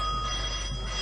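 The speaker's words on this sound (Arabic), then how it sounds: "شوف مين اللي على التليفون،" An old telephone rings in an Egyptian film scene, a loud sustained metallic bell trill filling the whole moment over a low hum, with no voices.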